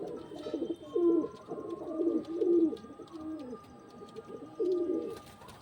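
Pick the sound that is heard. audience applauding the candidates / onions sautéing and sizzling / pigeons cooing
pigeons cooing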